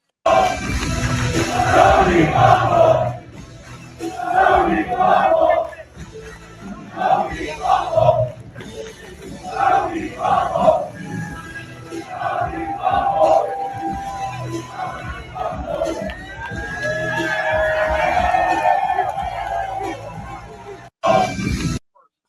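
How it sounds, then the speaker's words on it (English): Live wrestling crowd chanting at Ricky Saints, loud rhythmic bursts of massed voices repeating a chant over about twenty seconds, with cheering swelling near the end. "Some more Tony Fumble chants at Ricky Saints live from the crowd."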